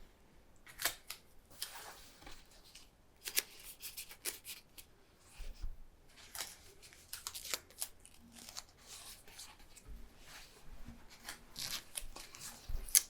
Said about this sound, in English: tape down the sides here